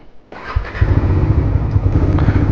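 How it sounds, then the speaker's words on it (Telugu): A motorcycle engine catches and settles into a steady, rumbling warm-up idle close by, with a slight uneven throb. "కొంచెంసేపు ఇంజన్ హీట్ ఎక్కిద్దాం."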